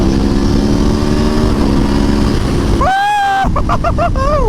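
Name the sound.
V4 motorcycle engine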